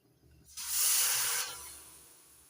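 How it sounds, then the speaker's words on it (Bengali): Water poured into a hot wok on a lit gas stove hits the metal with a sudden loud hiss and sizzle, swelling for about a second and then easing into a softer steaming fizz. "এবার কড়াইয়ের মধ্যে দিয়ে দিচ্ছি একটু জল"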